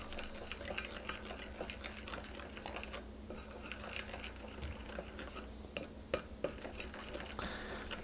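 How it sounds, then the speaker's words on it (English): A spoon stirs vanilla extract into an egg, butter and honey mixture for paleo chocolate chunk cookies, giving a steady run of quick clicks and scrapes against the bowl with occasional louder knocks. "Just gonna add our vanilla extract into our egg, butter, and honey mixture and just stir everything around"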